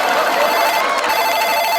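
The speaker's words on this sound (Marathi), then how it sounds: "फोन आला." A telephone rings nearby in a household scene, a loud, continuous electronic ringtone that sounds alone without any voices over it.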